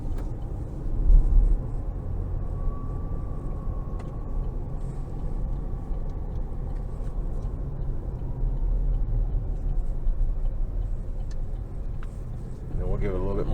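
A 2022 Chevrolet Colorado LT crew cab driving with its engine pulling steadily under throttle, a continuous low rumble and road noise at an even level throughout, close and loud.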